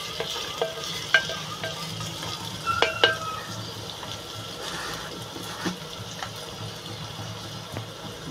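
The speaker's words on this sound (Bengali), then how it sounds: "লবণটা আগে এই জন্য দিয়ে দেবো, তাহলে আমার পেঁয়াজটা জলদি জলদি লাল হয়ে ভাজা হয়ে যাবে।" Onions frying in a pan with salt for matka chicken, a steady low sizzle with occasional scraping stirs and light clinks, moderately close, no voices.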